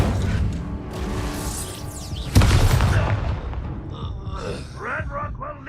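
A fire spell is cast in the Hogwarts Legacy video game amid combat, with a sudden loud whooshing burst partway through over dense game effects and rumbling, followed by brief chirping magical sounds.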